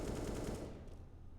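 Dense gunfire from a Counter-Strike match on the Nuke map, with rapid shots crackling continuously for the first half-second before thinning into a lower rumbling tail.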